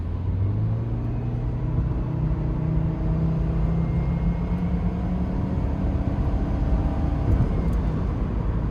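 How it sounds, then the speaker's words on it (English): A 2014 Subaru Impreza with a CVT and all-wheel drive drones steadily while driving on a winter road, a continuous low engine hum with rumbling road noise and no talk. "and you can hear the CVT performance right now."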